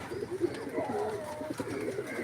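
Pigeons coo softly in a few low, rolling calls amid faint background ambience, fairly close.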